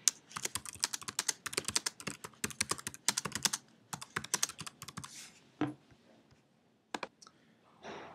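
Rapid keystrokes on a computer keyboard while filling in a wiki page, clattering in quick bursts with brief pauses and a few isolated clicks toward the end, close and clear with no talking.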